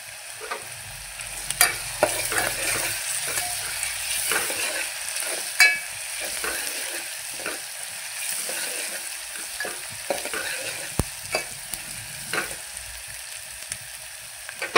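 Green chillies sauté in hot oil with cumin for curd kadhi. A close, steady sizzle carries repeated sharp clacks and scrapes of a spoon against the pan, and no voices are heard.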